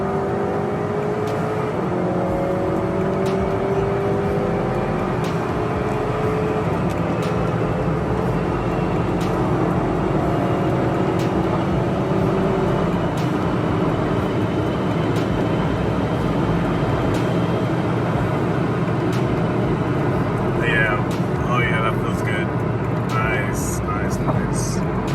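Turbocharged 2.0-litre engine of a 2020 Honda Accord pulling hard after a downshift to fourth gear, a loud sustained interior drone with rising engine tones and road noise, while someone talks over it.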